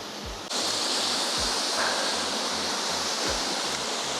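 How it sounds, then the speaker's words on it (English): Steady broadband rush of a waterfall running with little water, fairly close and continuous, with low thumps underneath and no voices. "there's not a lot of water coming over the waterfall"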